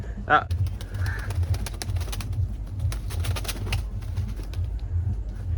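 Pigeon cooing at a fishing spot, a few soft low calls near the start over steady low background rumble, with people talking intermittently.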